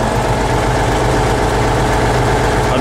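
A T-150K tractor engine idles close by with a steady, loud, low rumble and vibration that holds unbroken for the whole three seconds, with no voices.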